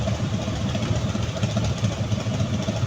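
An expensive motorbike idles at a red light on an Osaka street, its steady mid-pitched engine burble rumbling low amid traffic noise.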